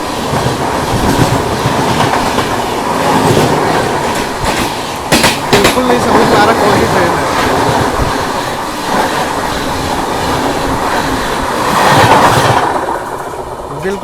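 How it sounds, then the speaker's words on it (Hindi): A fast express train rushes past on the Nagpur–Delhi line, a loud sustained rumble with clickety-clack wheel rhythm and brief sharp bursts, swelling again near the end as carriages keep streaming by. "बिल्कुल नहीं समझ पा रहा कौन सी ट्रेन है, इतनी फास्ट निकली यहाँ से।"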